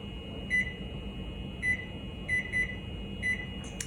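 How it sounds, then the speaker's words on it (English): A stove running on high heat gives off a steady low hum, with a short electronic beep-like tone repeating at irregular intervals, five or six times, at moderate loudness. "cook it over high heat for 4 minutes"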